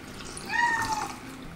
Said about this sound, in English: You might be able to hear my cat in the background.